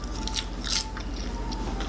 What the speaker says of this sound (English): Y'all hear that crunch? It's like a potato chip.